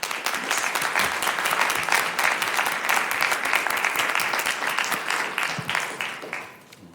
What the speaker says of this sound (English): I'd like to give you an applause